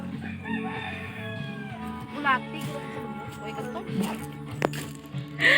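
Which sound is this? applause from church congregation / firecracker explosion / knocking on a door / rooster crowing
rooster crowing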